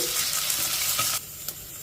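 Onion and garlic tempering sizzles in a clay pot, with a bright frying crackle and a few soft stirring scrapes, close and alone.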